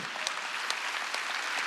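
A church congregation claps together in a continuous wash of hand claps, fairly distant and moderately loud, with a few sharper claps standing out from the steady roar.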